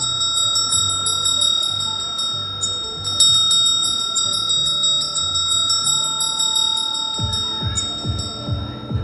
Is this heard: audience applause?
no